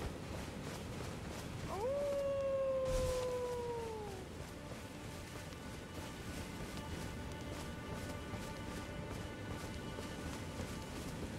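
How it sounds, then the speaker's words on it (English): A long howl from a wolf in the Elden Ring video game rises and then slowly falls over about two seconds, carried fairly clearly over steady ambient game noise. "Howl for me!"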